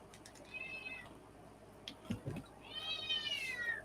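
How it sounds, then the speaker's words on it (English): A house cat meows twice indoors, drawn-out, high and fairly faint, with a soft bump between the calls and quiet room noise underneath. "You hear my cat?"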